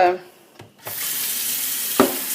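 Hot tap water runs into and rinses the tank of an iRobot Scooba 450 floor-cleaning robot, a steady close hiss of flowing water after a few brief knocks, ending with a short clunk.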